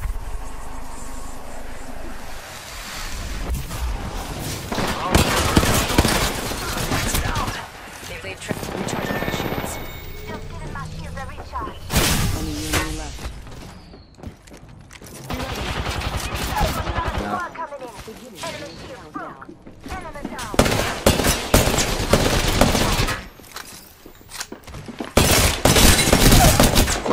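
Gunfire from an Apex Legends match, loud bursts of automatic shots in repeated volleys across the whole stretch, with a player talking over the shooting.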